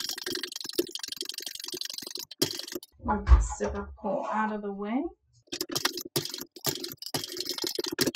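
Rapid mechanical stitching of a sewing machine sewing leather to a zipper runs in bursts, loud and close, with a voice speaking briefly in the middle pause.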